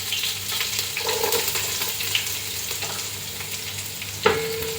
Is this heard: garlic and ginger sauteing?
yes